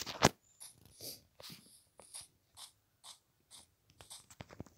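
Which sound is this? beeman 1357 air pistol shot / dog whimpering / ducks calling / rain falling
dog whimpering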